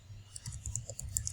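Code typed on a computer keyboard in a short, quiet run of rapid key clicks at an uneven rhythm, with no voices.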